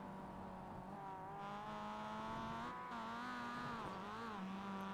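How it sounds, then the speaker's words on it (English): A Mazda race car in the iRacing sim at Lime Rock strikes a curb, its steady engine drone running throughout with a short jolt in the tone near the middle, loud and close as if from a chase view. "listen to Brio's car when he hits that curb."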